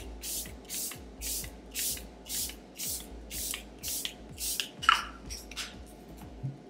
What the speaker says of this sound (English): We're gonna use the Charlotte Tilbury Airbrush Flawless Setting Spray.